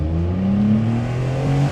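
A 1.2-litre VW Polo engine drones and revs under hard driving on back roads, a loud steady in-car hum with rising pitch and no talk.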